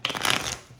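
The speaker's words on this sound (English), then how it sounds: "give it a knock and a shuffles, clear any energy from past readings" A tarot card deck is shuffled in one brief, crisp riffle of cards, close and fairly loud, heard alone.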